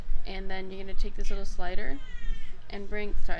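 A cat meows several times close by, drawn-out and pitched, overlapping with a person talking.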